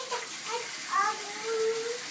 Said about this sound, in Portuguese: Fecha a torneira